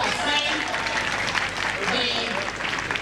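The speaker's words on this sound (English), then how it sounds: "Let's applaud Vanessa" A crowd at the University of Ghana 2019 matriculation ceremony applauds Vanessa after her symbolic signing of the matricula, a brief burst of clapping that carries through, mixed with voices in the hall.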